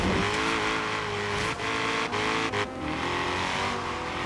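Car drifting in the video game Forza Horizon 3, a steady engine drone with shifting revs and a few brief breaks, sustained and close throughout with no talk.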